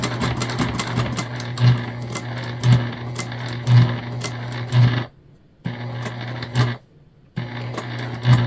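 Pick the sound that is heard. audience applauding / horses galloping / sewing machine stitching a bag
sewing machine stitching a bag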